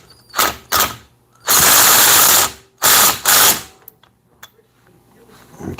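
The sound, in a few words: ratchet tightening down part on antique outboard motor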